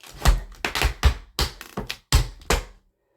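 Tap dance shoes make a quick run of sharp percussive taps in a syncopated rhythm, close and crisp, with brief gaps between bursts before stopping.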